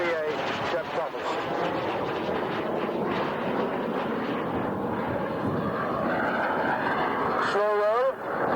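A Jet Provost Mark 3A jet trainer flying a display at the Duxford autumn airshow, its engine roaring and whooshing across the sky as it passes, with an announcer talking throughout.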